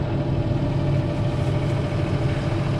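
A Fendt 312 tractor engine idles in a steady low, throbbing rumble, close and continuous with no change in pace.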